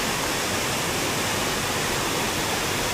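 Steady, dense roar of Daranak Falls in the rainy season, loud and continuous, filling the whole space with no breaks.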